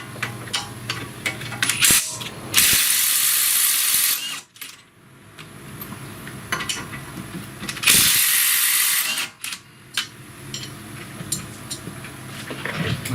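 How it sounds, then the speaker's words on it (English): A ratchet wrench loosens 21 millimeter strut bolts on a Dodge Grand Caravan, giving bursts of rapid clicking that alternate with two longer, louder spinning runs and some clanks of metal, close by and without talk. "We'll pull our bolts loose."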